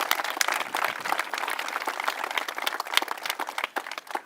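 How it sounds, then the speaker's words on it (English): A crowd at a street intersection ribbon cutting ceremony gives a dense, sustained round of outdoor applause, steady and fairly close throughout. "please join me in a round of applause for Councilman Graham"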